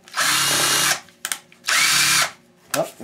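Powered screwdriver removing screws while a laptop computer is taken apart for scrap: two sustained whirring bursts, close and loud, separated by brief clicks and short spins.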